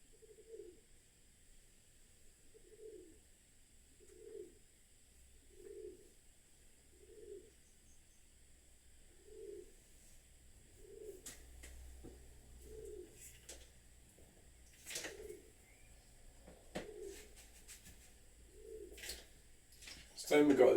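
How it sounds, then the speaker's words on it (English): A pigeon or dove coos in a steady series of soft, low hoots roughly every second, repeating through the clip near a painting session, with faint clicks and rustles in the background. "There's a freaking bird."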